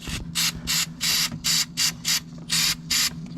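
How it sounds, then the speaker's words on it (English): Carb cleaner sprays onto John Deere lawn mower parts in about eight short, even hissing bursts with brief pauses between them, over a low steady hum. "A little jet spray. I'm just gonna give everything a little initial spray down here."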